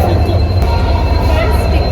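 A passenger train rumbles past close by with a heavy low roar and a faint metallic squeal, loud and continuous throughout the short stretch.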